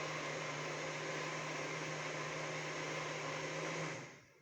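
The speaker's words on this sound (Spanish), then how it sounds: "La aspiradora no quiere servir." A household vacuum cleaner that is acting up runs with a steady, loud whirring drone and a low hum, then winds down and cuts off near the end.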